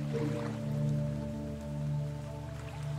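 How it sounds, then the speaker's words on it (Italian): Gentle rain patters softly and continuously beneath a steady low tonal drone of meditation music, calm and even throughout. "Sei pronto a immergerti in questa pioggia"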